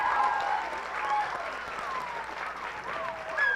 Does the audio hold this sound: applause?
yes